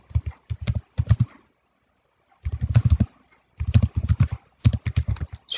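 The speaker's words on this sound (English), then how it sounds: "I can type in my question" Typing on a computer keyboard: rapid bursts of clacking keys in several clusters separated by short pauses, close and clear with no voices.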